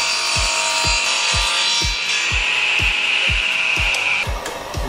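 A biscuit joiner cuts decorative wooden molding at 45 degrees, its motor whining steadily under a regular series of low thumps, close and loud throughout.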